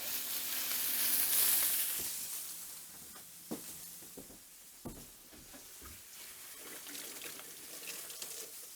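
A plump fillet steak searing in a pan over fierce heat, a close hiss that swells early and then settles into a steady sizzle broken by occasional pan knocks and taps.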